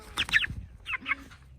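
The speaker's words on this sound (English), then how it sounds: "Cornish crosses that I have right now, these guys are going on their 5th week" Cornish cross meat chickens about five weeks old give a few short, soft clucks and chirps close by, two quick clusters of calls with a faint background hum.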